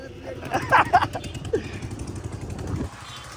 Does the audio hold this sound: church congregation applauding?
no